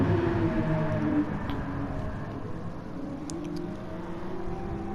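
Nissan GT3 race car engine in a racing game at Suzuka, struggling for rear grip while putting the power down, a continuous droning engine note with shifting pitch, moderately loud and steady throughout.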